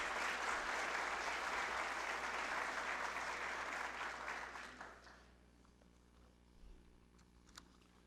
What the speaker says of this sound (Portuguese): Vamos aplaudir o nosso palestrante Roberto Santos.